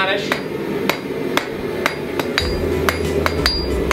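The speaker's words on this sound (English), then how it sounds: "I'm going to forge a taper on it about an inch and a half long or so" Hammer blows forge a taper onto a square steel bar, ringing out as sharp, bright metallic strikes in a steady rhythm, roughly two per second, with a low hum entering partway through.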